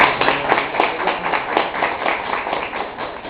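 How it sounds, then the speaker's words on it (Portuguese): A lecture audience claps in uneven, moderately loud applause, with individual claps audible within the group and the sound slowly fading toward the end. "A gente queria também uma salva de palmas"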